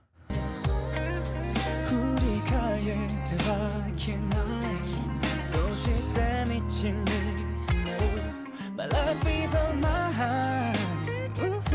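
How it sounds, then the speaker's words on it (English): A song plays throughout, with bowed violin lines and plucked guitar trading phrases over a steady full backing. "we have this violin and this guitar going back in this beautiful melodic battle."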